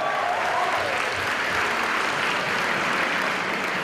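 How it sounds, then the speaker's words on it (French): Applause from the audience at the Toulouse Game Show 2012 fills the hall as a loud, dense, unbroken roar of clapping lasting several seconds. "Applaudissements."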